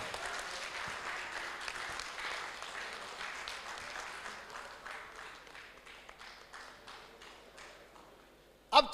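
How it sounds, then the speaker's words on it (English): Applause at a prize ceremony during an oncology summit, a dense patter of clapping from a seated audience that runs steadily and slowly thins out, with a sharp louder burst at the very end. "So big clap for them."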